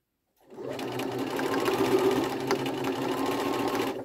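A sewing machine stitches jersey fabric for a tunic, starting abruptly and running at a steady, close, loud whir for about three and a half seconds with no talking.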